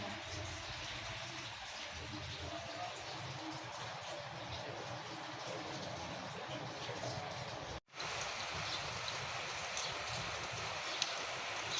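Steady rain falls during a wet late-May day, a constant even hiss of moderate loudness with no clear breaks, over a garden with plants beneath a roof; no talking is heard.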